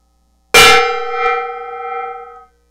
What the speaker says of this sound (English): I hit the gong.